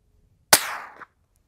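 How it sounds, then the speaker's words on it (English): A suppressed Ruger Mk3 .22 pistol fires a single supersonic round through a Dead Air Mask suppressor, giving a sharp close crack that decays over about half a second, ending in a faint mechanical clack. "we've got the Ruger Mk3 shooting supersonic rounds through it"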